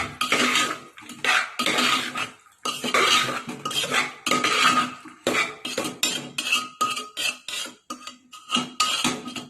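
A spoon scrapes and clanks loudly in a metal pot as tomatoes and cabbage are stirred, in bursts of rapid rhythmic strokes separated by short pauses, very close and with no talk.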